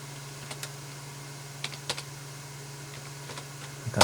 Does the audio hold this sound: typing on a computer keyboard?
yes